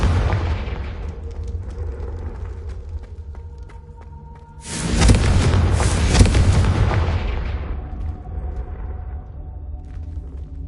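A Confringo fire spell goes off in Hogwarts Legacy, a loud booming blast that rumbles and fades over a few seconds against a low game ambience.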